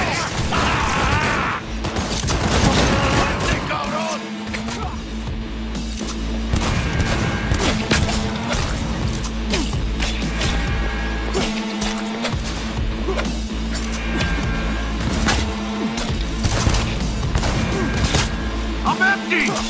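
Video game gunfire in Cyberpunk 2077 fills a dense, loud firefight: rapid shots and mechanical clatter over a steady game soundscape, with voices shouting throughout.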